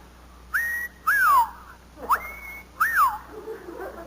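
A man whistles an imitation of a pink bosom warbler mating call: four short, sharp whistled phrases, some rising and some sliding down, with brief pauses between them, heard alone and up close.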